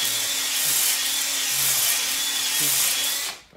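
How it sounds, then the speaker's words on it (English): A spinning honing brush works inside an engine cylinder bore in a budget engine build, giving a steady loud whirring scrape for several seconds before it winds down, while a voice counts aloud over it. "You wanna make sure you get the brush spinning before it goes in the bore."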